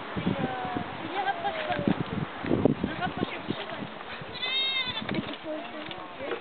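A little goat bleats a few times, in wavering cries, under and between loud talking from several people. Hoof clatter and other movement noises can also be heard.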